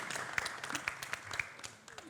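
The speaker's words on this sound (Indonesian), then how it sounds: "Silakan tepuk tangan, sepuasnya tepuk tangan." Applause from an audience at a campus student and press forum in Bali, scattered claps heard fairly faint and a little distant over room murmur, with some voices mixed in.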